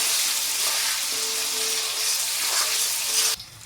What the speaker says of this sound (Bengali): এখন আলুটা একটু ভাজা ভাজা করে পরে মশলাটা দেবো।